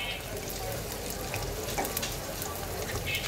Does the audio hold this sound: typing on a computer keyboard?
no